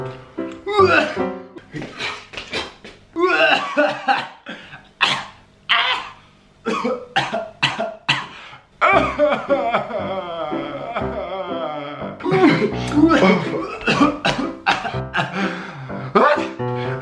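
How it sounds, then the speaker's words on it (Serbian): A boy coughs and clears his throat in a string of loud, close bursts, alternating with people talking. "Evo kašljem."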